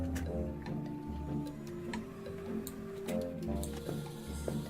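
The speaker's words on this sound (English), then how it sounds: "One of the first ticking bomb models." An early-model ticking bomb in the adventure game The Wardrobe ticks at a steady, even rhythm, quiet and close, over soft background music.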